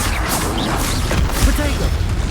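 Fiery spell blasts from Confringo and Incendio casts in the Hogwarts Legacy video game on Hard difficulty, a dense run of bangs and crackling bursts layered over continuous combat noise.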